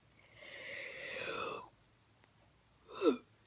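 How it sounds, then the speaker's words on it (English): A single person's yawn, a long drawn-out breathy vocal sound lasting over a second, followed after a pause by a short breathy exhale or snort, close and fairly quiet. "sorry for my yawn."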